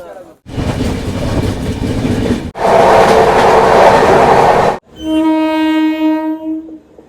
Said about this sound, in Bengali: এইবার ট্রেন ঢুকছে আমাদের ঝাঁঝা